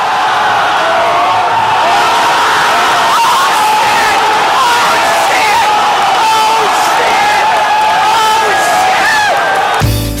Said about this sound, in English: the elated cries of the crowd much too loud for the camcorder's brittle microphone to handle